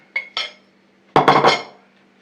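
A few quick metallic clinks of a utensil against a bowl while stirring flour into potato pancake batter, two light taps followed by a brief burst of scraping clatter.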